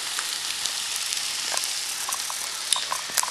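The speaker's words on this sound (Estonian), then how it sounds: "munad, need ma siis praen ära ja topin saia vahele" Eggs frying in a pan for a breakfast sandwich, a steady bright sizzle with scattered crackling pops, close and continuous with no talking.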